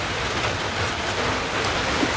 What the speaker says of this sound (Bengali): বৃষ্টি আজকে হারা দিন রইল